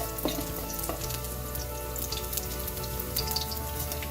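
Garlic frying in about a teaspoon of oil in a hot wok gives a steady close sizzle and crackle, with a few faint stirring taps.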